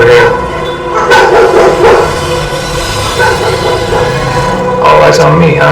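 A dog in a neighborhood barks several times, with sharp yips scattered near the start and end, while people talk nearby.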